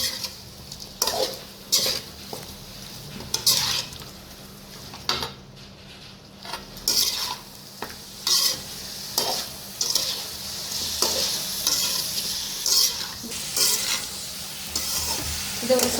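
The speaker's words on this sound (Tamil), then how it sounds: "போட்டுட்டு இப்போ நல்லா இது ஒரு கிளறி விட்டுக்கலாம்" Chicken stirred in a pan with garam masala, turmeric and salt: repeated scraping, clattering strokes of a spoon against the pan over a steady sizzle, close and fairly loud throughout.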